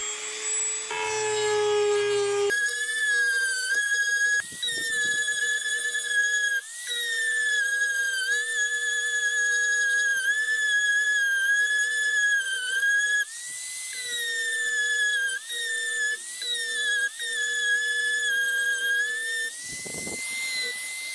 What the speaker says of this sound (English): we're going to be using the Dremel with the sandpaper bit